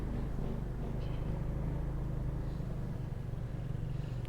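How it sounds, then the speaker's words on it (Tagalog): A Bajaj RE auto rickshaw climbs a steep rough mountain road, its engine giving a steady low labored drone at moderate loudness with no talk. "Ito yung Bajaj RE. Grabe, akit bundok to."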